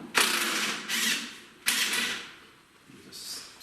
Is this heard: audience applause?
no